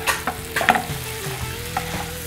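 Butter and an egg fry in a pan, a steady close sizzle with a few louder crackles and stirring scrapes early on, then a softer even fry with no voices.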